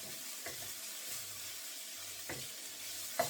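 Onions frying in a pan for lamb gosht give a quiet, continuous hiss and sizzle, with a few soft stirring knocks and scrapes spaced through it.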